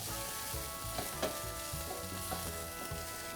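Ginger, garlic and green chilies sauté in a hot pan with a steady close sizzle, punctuated by a few soft stirring scrapes and no talking.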